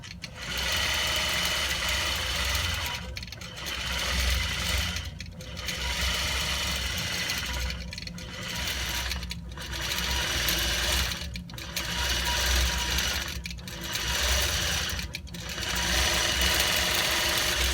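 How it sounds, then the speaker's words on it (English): A quilting sewing machine stitches a border pattern in a steady, loud mechanical whir that continues throughout, with brief regular dips every second or two as the needle changes direction. "It's just going to finish out these last few stitches for us."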